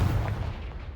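A Confringo blasting spell cast in Hogwarts Legacy, a loud low booming burst that rumbles and fades over about a second, with no voices.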